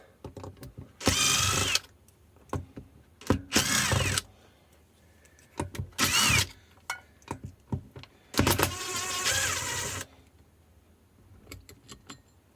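An Effbike electric motor with a bad clutch bearing and worn gears is spun in four short bursts, each a harsh, loud grinding whir up close, with clicks and handling noise in the quiet gaps.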